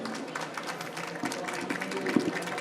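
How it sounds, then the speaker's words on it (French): Audience applause at an agricultural training event, a steady patter of clapping from a room full of people that swells slightly toward the end, heard without speech. "voilà qu'on peut applaudir"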